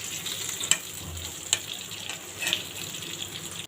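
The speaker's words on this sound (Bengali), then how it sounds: "আর বেগুন ভাজা আর পটল ভাজা করে নিচ্ছি" Eggplant and pointed gourd frying in oil in a home kitchen: a steady, fairly quiet sizzle with a few sharp clinks of stirring or utensils at intervals.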